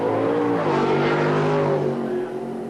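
A Supergas drag racing car at Santa Pod roars at close range with a loud, sustained engine howl. Its pitch wavers as the throttle is eased at the top end, and there is no speech.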